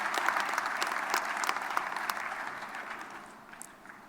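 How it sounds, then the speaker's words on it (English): Sustained applause from a large audience at the announcement of South Africa's 2021 municipal election results, dense and even, gradually fading toward the end. "Please applaud yourselves."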